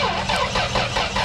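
A 2000 Toyota 4Runner engine cranks over while troubleshooting a blowing EFI fuse, a steady, loud churning drone with a faint pulsing rhythm, heard alone and up close.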